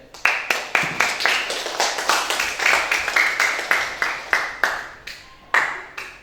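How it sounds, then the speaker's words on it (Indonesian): Classmates clapping in a school classroom, a steady run of sharp, close hand claps from a small group that go on for about six seconds and thin out toward the end. "aplaus untuk teman-teman kalian aja"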